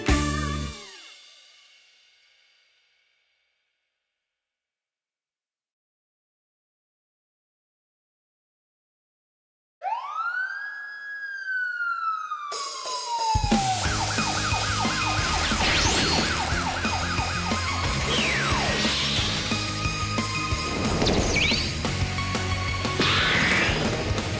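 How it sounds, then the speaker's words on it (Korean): A cartoon rescue vehicle's red-and-blue emergency siren in a children's toy song, rising and falling loudly and continuously for several seconds after a brief silence, with bright music around it. "모두를 구해주는 사이렌 여기 있네 빨간 파랑 사이렌"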